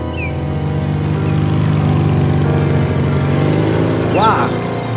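A motorbike engine starts and runs steadily and loudly, with a brief rising rev near the end as it pulls away. A narrator's voice can be heard over the engine.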